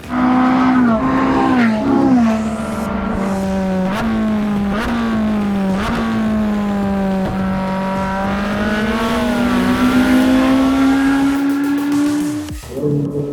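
A Ferrari 458 Speciale supercar engine revs loud and close, its pitch climbing and falling through repeated gear changes before cutting off near the end, with no voices over it.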